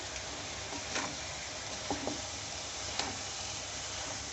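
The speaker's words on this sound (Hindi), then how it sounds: "कैबेज को मैंने बारीक बारीक स्लाइस कर लिया है। अब इसे मिक्स कर लेंगे।" Finely sliced cabbage tossed and stirred in a hot pan for Chinese samosa filling, a soft continuous sizzle with a few faint scraping taps of the spatula, fairly quiet and without talk.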